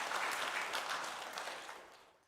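Church congregation applauding during a Sunday service, a dense broadband wash of many hands clapping together that stays steady, then fades out toward the end.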